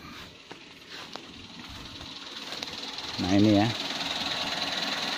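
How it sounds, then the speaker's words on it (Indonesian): The engine of a used former-taxi sedan runs at a low, even idle in the background while a person says a few words close by. "Setelah mesin hidup, kita dengarkan suara mesinnya."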